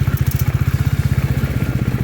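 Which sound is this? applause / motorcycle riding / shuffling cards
motorcycle riding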